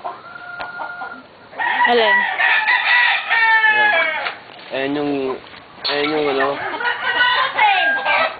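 Chickens on a farm give repeated harmonic clucks and crow-like calls in several loud bursts, with people talking over and between them.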